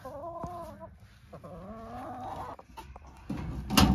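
Hens in a coop cluck and warble in a close, steady murmur, with a few louder squawks and a burst of rustling near the end.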